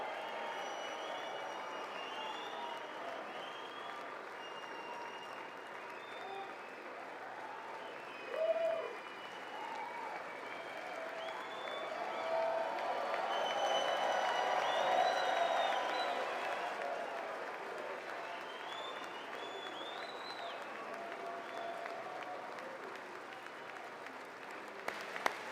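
Sustained audience applause in the chamber at the 2026 State of the Union address: dense, somewhat distant clapping that swells toward the middle and carries on for a long stretch, with faint crowd murmur.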